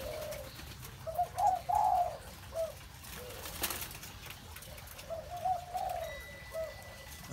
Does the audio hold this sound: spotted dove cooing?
yes